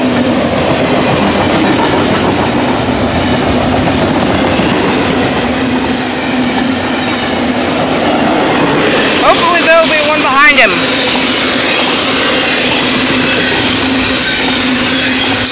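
A Norfolk Southern double-stack freight train rolls past close by. Its wheels and cars make a loud, continuous rumble and clatter, with a brief squeal of wheels midway. Voices can be heard under the noise.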